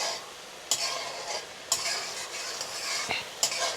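A blended ginger, garlic and onion paste sizzles steadily in a hot pan while a spoon scrapes through it in four sharp, evenly spaced strokes, close and clear.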